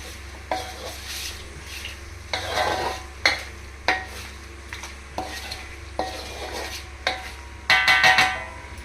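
Kadai chicken with green chillies stirred in a pan, repeated scraping strokes over a steady low sizzle, close and regular, with no voices.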